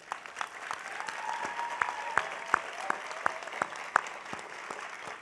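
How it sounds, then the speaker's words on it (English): A graduation audience at the IVC commencement ceremony claps steadily and evenly, with a few sharper nearby claps standing out from the crowd. "applause."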